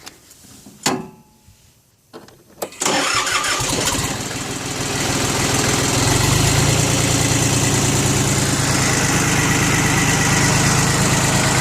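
A Yanmar FX18D compact 4wd tractor's 3-cylinder 23-horsepower diesel cranks over after a few clicks, catches and settles into a steady, loud, close idle that runs on to the end.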